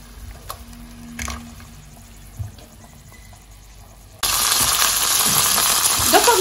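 Chopped tomatoes hit a hot frying pan for a spaghetti sauce: after a few quiet clicks and knocks, a loud, steady broadband sizzle bursts in and holds, with small spatters and stirring scrapes.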